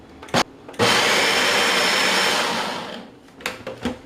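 A countertop blender roars steadily for a few seconds while cracking and peeling soaked beans for akara, framed by short knocks and bursts before and after the main run.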